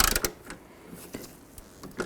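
Metal nut being tightened onto a new tailgate striker bolt on a 2002-06 Chevy Avalanche, giving a few short mechanical clicks and ratcheting creaks close by, with quiet pauses between turns.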